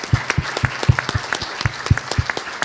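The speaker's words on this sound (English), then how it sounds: "And a round of applause for our speakers" Audience applause for the speakers at the end of an expert panel: sparse, distinct claps from a small group, close and fairly loud, with an uneven rhythm.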